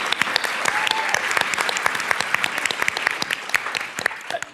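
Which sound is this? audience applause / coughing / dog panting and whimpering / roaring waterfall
audience applause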